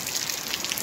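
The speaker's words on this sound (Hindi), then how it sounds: "बाहर फिर से हल्की सी बूंदाबांदी शुरू हो चुकी है" Light drizzle falling outdoors, a faint steady patter of small raindrops on surfaces, soft and continuous over a short moment.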